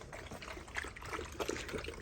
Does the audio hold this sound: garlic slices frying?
no